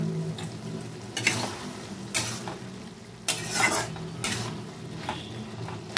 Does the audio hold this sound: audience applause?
no